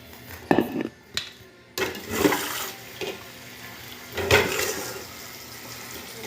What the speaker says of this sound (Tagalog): samahan niyo muna akong maghugas